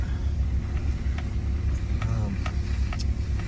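A vehicle rumbles out of a snowy Michigan deer camp towing trailers, a steady low engine drone with faint rattles and clicks, close and continuous with no speech.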